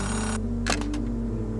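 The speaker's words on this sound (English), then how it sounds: "A payphone ringing in the wild?" A payphone rings out in the wild in the video game Oxenfree II: Lost Signal, a single electronic ring burst standing out against a constant hum and a steady background tone.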